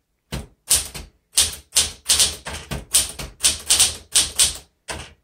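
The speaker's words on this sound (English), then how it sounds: "let's go ahead and type and see how well this does" Typing on a 1967 Smith Corona Super Sterling manual typewriter: a close, loud run of about a dozen crisp key strikes in uneven bursts, with brief pauses between, with no talking.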